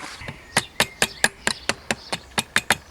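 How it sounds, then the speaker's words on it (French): Twelve sharp mallet taps, evenly spaced and close, drive a screwdriver against a piston pin to push it into a moped piston, each knock ringing briefly with no voices. "on va insérer l'axe de piston à l'aide par exemple d'un tournevis et puis donc d'un maillet tout simplement"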